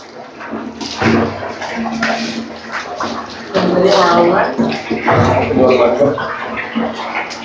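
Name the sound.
water poured while bathing, splashing on face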